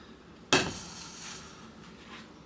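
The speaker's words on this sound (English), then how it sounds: "I take my butter, dollop it in my" A dollop of butter lands in a cooking pan with a single sharp clatter, followed by a faint fading ring and quiet background.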